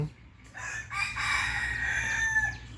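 A young yellow jungle fowl rooster lets out a single drawn-out crow, close and fairly loud, lasting about two seconds against faint background noise.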